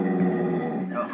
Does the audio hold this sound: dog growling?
yes